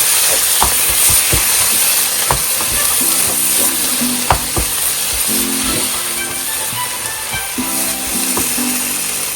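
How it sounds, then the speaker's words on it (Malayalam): Egg roast with coriander leaves is stirred in a hot pan: a loud, continuous sizzle with scattered scrapes and knocks of a spoon against the pan. "ഇളക്കി യോജിപ്പിക്കാം."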